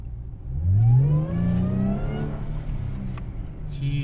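A supercharged Jaguar F-Pace S with an aftermarket intake accelerates on the road, its engine rising in pitch with a close, loud whine before settling into a steady cruise.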